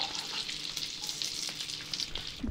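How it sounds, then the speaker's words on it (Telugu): Almonds, cashews and raisins lightly frying in fat for mutanjan sweet rice, giving a steady close hiss and sizzle with soft crackles throughout and no talking. "బాదం, గోడంబి, ద్రాక్ష లైట్గా ఫ్రై చేసుకొని"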